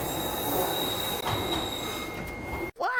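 A Docklands Light Railway train runs close by with loud, sustained metallic wheel squeal over a steady rolling roar, cutting off abruptly near the end.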